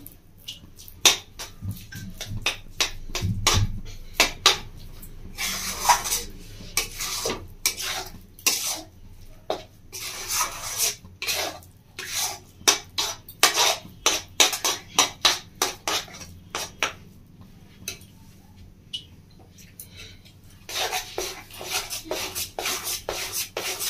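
Sandesh sweet mixture is stirred in a pan, a spoon scraping and rubbing against the metal in quick, uneven strokes with short pauses, close by and alone without talk.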